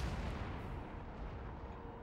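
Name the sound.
cannon firing in a video game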